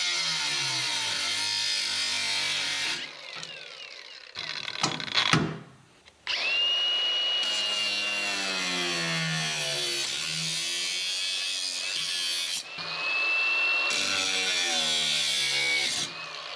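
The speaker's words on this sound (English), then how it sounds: "I'm gonna cut them right along here and keep those for the rubbers." A power tool cuts parts for a 1978 Pontiac Firebird, whining loudly and steadily up close for several long stretches, its pitch sweeping as it bites, broken by a short pause and a clattering stop midway.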